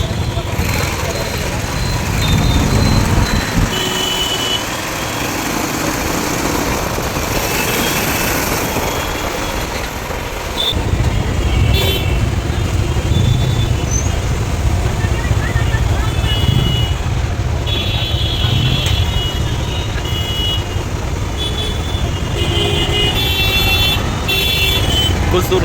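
Busy road traffic in Banaras makes a dense, constant roar of engines with scattered horn toots, loud and continuous, while voices murmur through it.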